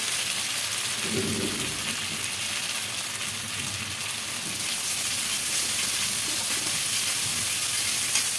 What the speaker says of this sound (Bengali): এবার এই পেস্টটা এখানে দিয়ে দেবো। খুব ভালো করে কষিয়ে নেব।